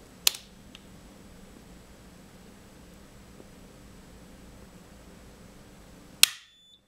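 During an overcurrent test, a modular circuit breaker trips with a sharp mechanical snap near the end. A smaller click comes near the start, with low hum and quiet background in between and no talk.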